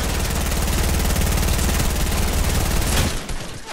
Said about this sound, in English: Let me go ahead and lay a little gunfire down.